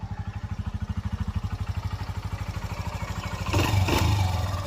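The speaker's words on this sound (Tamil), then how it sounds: "வண்டியோட இன்ஜின் பீட் எப்படி இருக்குதுன்னு பார்த்துருங்க." A reconditioned Honda Dream Neo motorcycle engine, fitted with a new timing chain kit and reworked head and valves, idles with a steady, rapid thumping beat, then revs up briefly near the end.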